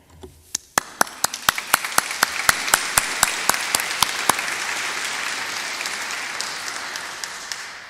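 Commencement audience at Marian University's Ancilla College applauding graduates, opening with a few sharp, sparse claps that quickly build into dense, sustained applause from a large crowd, holding steady to the end.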